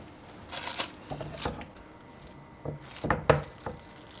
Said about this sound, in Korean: 완성된 양갱을 한번 잘라 보겠습니다